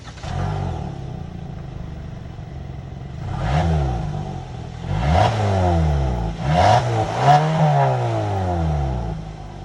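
A 2022 Hyundai Tucson's 2.5-liter four-cylinder engine idles steadily at close range, then rises in several short revving bursts that sweep up and fall back, with no talking.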